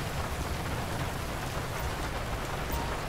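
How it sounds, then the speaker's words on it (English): Steady rain pours down in the video game GTA 5, a dense, even hiss of droplets at low level with no voices or breaks across the short stretch. "it's been raining all day"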